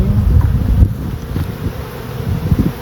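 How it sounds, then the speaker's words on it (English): Honeybees swarm around an outdoor hive whose super is packed full, giving a low, steady buzzing drone mixed with gusty wind rumble against the microphone. "And look, all the extra bees."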